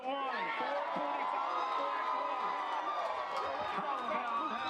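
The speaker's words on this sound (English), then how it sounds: "Take a listen to this crowd once the final weight was announced." Crowd at a blue marlin fishing tournament weigh-in cheering and whooping as a final weight is announced, a loud, sustained roar of many voices with shouts rising throughout.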